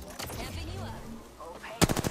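Gunfire in a multiplayer shooter video game: a sharp burst of several rapid shots near the end, loud and close, following a stretch of player voice chat and game ambience.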